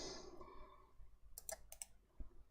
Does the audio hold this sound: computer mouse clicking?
yes